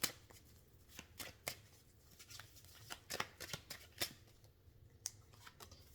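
Oracle cards are shuffled in quick, crisp riffles and slides during a weekly tarot-style reading, a series of sharp papery bursts repeating throughout, close and fairly quiet with no talking.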